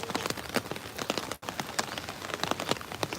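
Rain falls steadily around Harajuku Station in Tokyo, a dense hiss of drops pattering on surfaces, continuous and moderately loud, with no voices.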